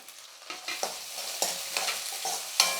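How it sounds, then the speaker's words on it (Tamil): Finely chopped large onion stirs and fries with ginger garlic paste in a pan for a South Indian poriyal, a steady sizzle broken by close scraping strokes of a spoon, with no talk. "நான் ஒரே ஒரு வெங்காயம் பெரிய வெங்காயமாக எடுத்து பொடியாக கட் பண்ணிக்கிட்டு அதை சேர்த்துக்கிறேன்"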